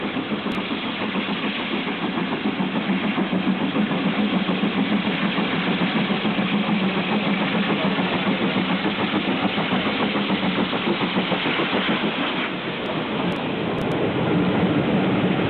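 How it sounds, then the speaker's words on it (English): A steam tank engine hauling a train near Bishop Lydeard station in Somerset gives a steady, loud, continuous chuffing rumble and working noise for the whole stretch, with a few faint high whistle-like squeals toward the end. "The tank engine in the front is very reminiscent of a double-headed tank setup"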